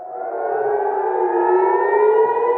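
A loud air raid siren holds a steady wailing tone that rises slightly, with no voices over it.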